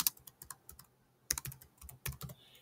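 Quick clattering keystrokes on a computer keyboard, close and crisp, coming in uneven bursts with a short pause midway.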